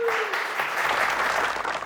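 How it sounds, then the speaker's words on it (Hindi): Audience applause in a comedy serial courtroom scene, a dense, steady wash of clapping that runs loud and continuous throughout, with a brief tonal sound at the start. "अबे ताली बजा,"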